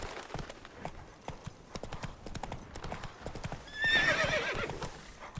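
Geralt's horse Roach in Witcher 3 gallops with steady, rapid hoofbeats, then gives a loud neigh near the end, with faint talk underneath.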